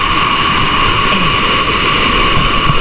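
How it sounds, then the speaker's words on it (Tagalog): Strong floodwater rushes past in a loud, dense, unbroken roar that fills the whole stretch with no voices above it. "Grabe lakas ng lakas ng baha."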